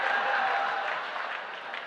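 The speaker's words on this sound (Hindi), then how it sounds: "और ये 4 आदमी ताली बजा रहे हैं" Audience at a Hindi comedy poetry recital claps in a brief, dense burst of applause that stays even and fades slightly toward the end.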